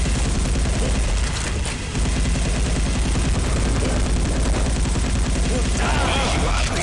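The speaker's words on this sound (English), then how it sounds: "Blade's classic assault rifle" Blade's assault rifle in the PC game Sin fires in long, loud sustained bursts, a dense rapid clatter of shots that runs almost without pause, broken only by one short gap.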